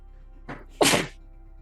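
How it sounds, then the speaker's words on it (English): A single sneeze: a short sharp intake followed by a loud, breathy burst, alone in a quiet room. "Sorry, I had to sneeze."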